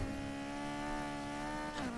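Nissan 350Z racing in Need for Speed Heat, a steady high-revving engine drone held throughout with a brief pitch dip and shift near the end, loud and alone with no talk.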